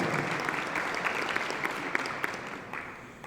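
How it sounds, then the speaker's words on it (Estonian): Audience applause fills a hall after a wind orchestra tournament, a dense steady clatter of many hands at close range, continuing evenly with scattered sharper claps throughout. "Aplaus teile enestele, sest te olete seda väärt."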